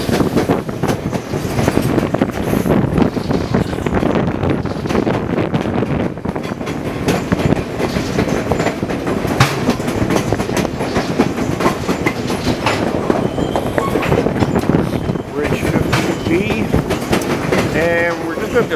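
White Pass & Yukon Route train running on rails along the Summit section, a loud continuous rumble with rhythmic clickety-clack of wheels and occasional squeal, heard from on board.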